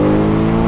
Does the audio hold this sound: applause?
no